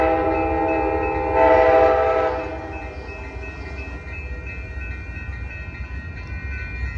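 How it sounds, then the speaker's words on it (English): Amtrak Coast Starlight passenger train number 11, southbound, arrives at Oakland Jack London Square station. A horn blast sounds up close, then the steady rumble of the rolling train continues. "here comes Amtrak Coast Starlight train number 11, your southbound train to Los Angeles"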